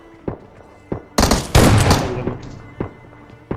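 Shotgun blasts in the mobile game PUBG Mobile: a few sharp single shots and one heavy burst of booming fire, close and loud, followed by more spaced pops.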